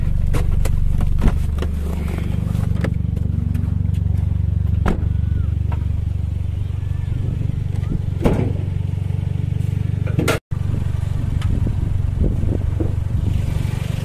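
A third-generation Toyota Vios Limo engine idles after a tune-up and fresh oil change, a steady low hum throughout with scattered light clicks and a few soft thumps.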